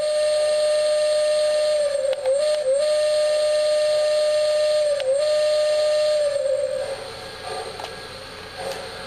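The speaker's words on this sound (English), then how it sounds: "next we'll do the whistle" Lionel model train steam whistle (LC #3452 set) blowing a long, steady, loud tone with a few brief dips, then fading to a softer hiss near the end.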